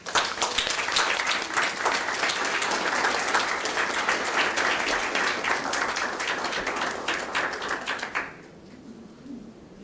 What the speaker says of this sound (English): please welcome Dr. Zev Handel with a warm round of applause